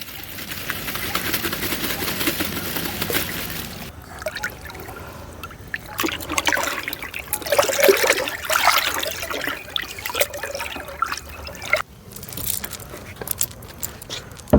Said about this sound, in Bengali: আলাদা জায়গায় গুড়টিকে গুলে এর মধ্যে ঢেলে দিচ্ছি